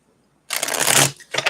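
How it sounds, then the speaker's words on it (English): A deck of tarot cards is shuffled close up: a loud, dense riffle of about half a second, a brief pause, then a shorter second burst, with no talk. "get these cards shuffled."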